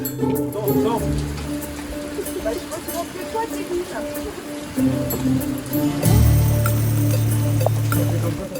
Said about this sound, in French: il se met à tomber des trompes d'eau